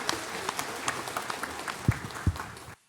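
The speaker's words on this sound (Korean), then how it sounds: "박수로 하나님께 드리겠습니다." A church congregation claps during a worship service, scattered, moderately quiet clapping with a couple of heavier thumps near the end before it stops abruptly.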